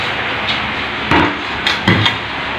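A few sharp pounding knocks, two or three close-together hits, tamping down tiles or flooring being set into adhesive, heard fairly near over a steady background hiss with no talking.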